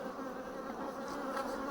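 Honey bees buzz steadily and continuously during a hive swarm inspection, with no speech over the dense, close insect drone.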